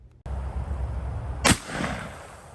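A single sharp, loud simulated shotgun blast from a bugout shotgun cracks out about halfway through, over a steady low rumble of background noise, then trails off in a short decay.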